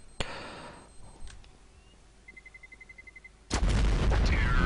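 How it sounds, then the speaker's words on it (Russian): Bomb explosion in Counter-Strike: Global Offensive on the Inferno map, preceded by a sharp shot and faint rapid beeping, then a sudden loud blast that roars and sustains to the end. "Да, взрывается бомба."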